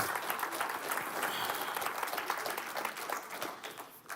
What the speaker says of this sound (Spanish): ¿O sí le puedo dar un aplauso al Señor?